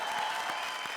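A studio audience claps loudly to welcome the judges of a Hindi comedy show, a dense, steady wash of applause close up with a faint sustained tone running under it.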